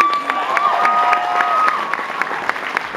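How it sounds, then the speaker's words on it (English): A large television studio audience at a 2013 X Factor live show claps and cheers loudly for a female solo singer. The roar is dense and continuous, with whoops and shouts rising above the clapping. "Let's give her a massive round of applause."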